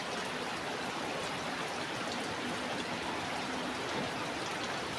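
Steady rain falling outdoors in a broad even hiss with dense patter, constant and moderately loud without pause, no voices.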